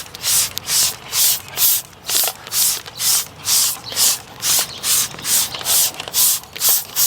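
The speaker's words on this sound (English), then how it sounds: "You just want to give that a good shake and then spray the wheel very generously." Adams wheel and tire cleaner mixed with Adams car shampoo is sprayed generously onto a car wheel from a trigger bottle, giving a long run of rhythmic, close, hissing spray bursts at about two per second.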